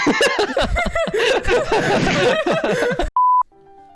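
After a stretch of busy chatter and laughter, a single loud electronic alarm beep rings out, then a fainter tone follows.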